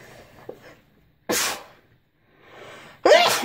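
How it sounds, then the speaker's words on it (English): Two sharp sneezes burst out close by, each preceded by a quick intake of breath, with quiet pauses between. "Oh, excuse me, I've got the sneezes."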